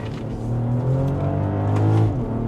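A 2025 BMW X3 M50i drives along, its engine giving a continuous close drone that swells slightly and then eases off, with no talking.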